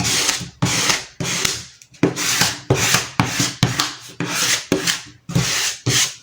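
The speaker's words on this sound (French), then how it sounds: "ça fait du bruit. Là, je suis en train de tapisser." Rhythmic rubbing and rasping from upholstery work, about a dozen close, scratchy strokes in a quick back-and-forth pattern, each burst separated by short pauses.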